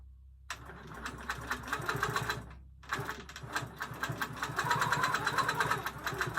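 A quilting machine on a frame stitches in regulated mode at 8 stitches per inch, giving a fast, even mechanical chatter that runs in two bursts split by a brief pause, close and moderately loud.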